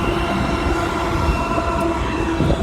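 A long BNSF freight train pulled by four engines rolls slowly past in Flagstaff, Arizona: a loud, close, continuous rumble of wheels on rail with faint squeals and steady hum, no talking.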